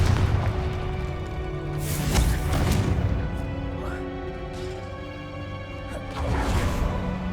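A Confringo spell explodes in Hogwarts Legacy, a booming blast with whooshing swells layered over a sustained musical backdrop, rising and falling in a few loud bursts.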